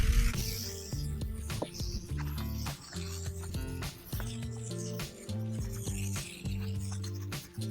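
Close, wet rubbing and squeaking as a sponge is scrubbed over car paint wet with rinseless wash, back and forth in irregular strokes, with brief pauses between passes.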